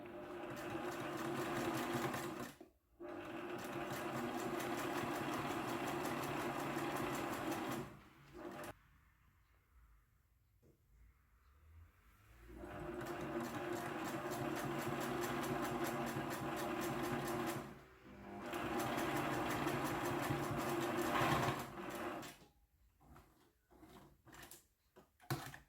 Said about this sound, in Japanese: 次に上下に大きい方の長方形を縫い合わせます